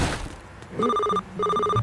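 A telephone bell rings in two loud, close bursts of rapid trilling, with a short pause between them, after a brief moment of background noise.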